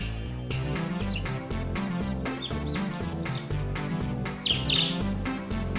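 Parakeet chirping beside a rabbit in a played-back video, short bright tweets scattered over steady background music, with a brief louder burst of chirps near the end.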